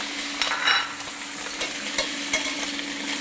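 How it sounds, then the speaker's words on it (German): Cooked ham sizzles briefly in a frying pan, a steady close crackle with a few light scrapes and clicks, and no one speaking. "Und wir fangen an mit etwas Kochschinken. Wird nur kurz gebraten."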